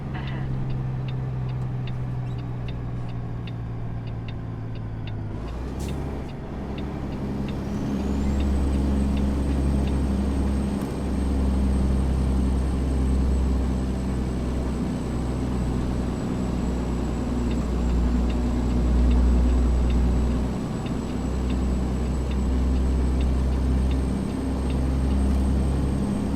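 Kenworth truck cab interior in American Truck Simulator, hauling a log loader: a steady low engine drone fills the cab throughout, with a sharp hiss-like transient early on and a thin high whine running underneath.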